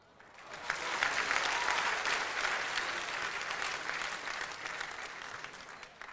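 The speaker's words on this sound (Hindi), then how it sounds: "डॉक्टर बशीर बद्र के सम्मान में तालियाँ बजनी चाहिए" Applause from a poetry-recital audience honouring poet Dr. Bashir Badr swells quickly into a full, sustained burst of clapping, then thins gradually. Heard from a distance, with no voices over it.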